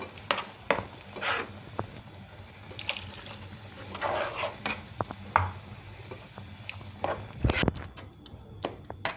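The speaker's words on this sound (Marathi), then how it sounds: "ते पाणी घेऊन मिक्सरचं भांडं जरासं धुवून मी त्यात पाणी ॲड करते" Water sloshes and splashes inside a blender jar being rinsed at close range, with intermittent swishing bursts and a clunk near the end, over a faint background sizzle.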